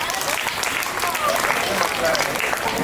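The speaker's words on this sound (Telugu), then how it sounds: "చప్పట్లతో తన్ని ఆహ్వానిద్దాం" An audience claps steadily to welcome a child performer onto the stage at a show, a sustained round of applause filling the whole stretch.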